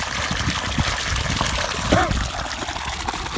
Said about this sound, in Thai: อากาศคึมโมมีแดดนะครับแต่ว่าน้ำก็ไหล ดีอยู่นะครับ น้ำไหลดี